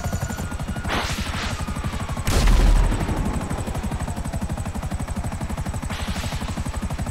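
Gunfire in GTA V Online rattles steadily under a continuous mechanical drone, with one heavier boom about two seconds in and occasional whooshing sweeps.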